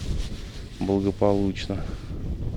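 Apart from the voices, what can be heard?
strong wind on the Moscow River while fishing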